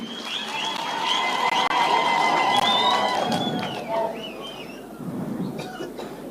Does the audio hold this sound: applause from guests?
yes